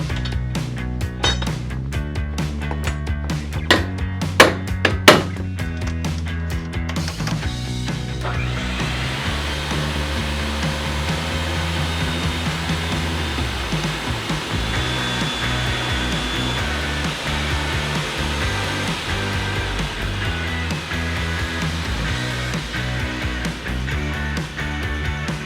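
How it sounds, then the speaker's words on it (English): Threads are cut on bolts for the backbone of a wooden boat, with a few metallic clinks and knocks at first, then a loud, steady mechanical whirring that runs on without a break. "With the heads formed, it's on to cutting the threads."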